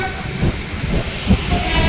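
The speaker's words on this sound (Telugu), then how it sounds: "ట్రైన్ ప్లాట్ఫామ్ నెంబర్ త్రీకి అయితే వస్తుంది హుబ్లీ ఇంటర్సిటీ ప్యాసింజర్" Hubli Intercity passenger train pulling into platform three at a station, a steady loud rumble of wheels on rails with faint squeals and a distant horn, carrying on throughout with no voices.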